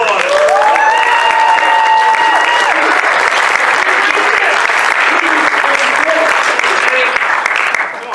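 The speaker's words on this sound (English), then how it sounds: "Let's give him a round of applause." A show audience applauds loudly and steadily for about eight seconds after a performer's bit, a dense wash of clapping with some cheering, while a voice keeps talking over the top through the first few seconds.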